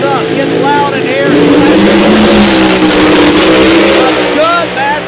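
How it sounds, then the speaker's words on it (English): A drag racing car's engine revs loudly at the track, a rising and falling roar that fills the air under an announcer's continuous commentary. "Revs up, get loud in here."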